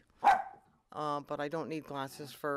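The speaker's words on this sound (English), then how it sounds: "Sorry about my dogs, but they live here." Dogs in a home bark in one loud, sharp burst near the start, then someone talks steadily through the rest.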